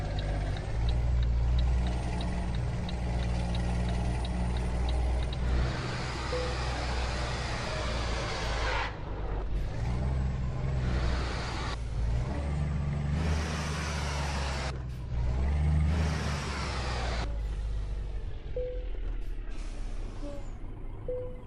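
Scania R420 truck engine in Euro Truck Simulator 2, hauling a trailer: a loud, steady low rumble that swells and drops in repeated bursts, with short hiss-like releases between.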